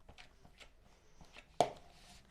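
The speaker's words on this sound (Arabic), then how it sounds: "بنهرس البطاطس كده بالشوكة" Boiled potatoes mashed with a fork, plain with no oil or cream added: a few soft, quiet squishing taps against the dish, then one sharper knock of the fork near the end.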